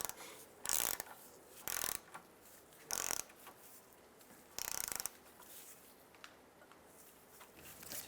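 A hand ratchet working on 17 mm cradle bolts of a 2003-2011 Honda Element: four short bursts of rapid clicking, each about half a second long, separated by quiet pauses, close and clear.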